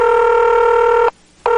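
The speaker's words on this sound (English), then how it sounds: "It starts with the telephone ringing" An electronic telephone ring opening a domestic violence PSA, a loud steady trill lasting about a second, then a brief pause before the next ring begins.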